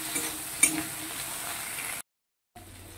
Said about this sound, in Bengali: দিয়ে 30 সেকেন্ডের মতো আমি টমেটোগুলোকে ভেজে নেব।